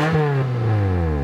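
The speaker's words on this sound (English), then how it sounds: "you can hear as we start it up, the exhaust has some holes in it" A Toyota Corolla engine fires up and revs loudly with a rough, raspy exhaust note from holes in the exhaust, close and brief.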